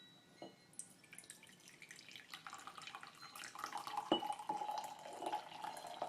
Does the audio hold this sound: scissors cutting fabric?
no